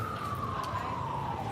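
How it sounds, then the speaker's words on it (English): An ambulance siren on a New York City street, a single steady wailing tone slowly falling in pitch over constant traffic rumble, moderately loud and not far off. "people die and the ambulances are sent and you hear that shit"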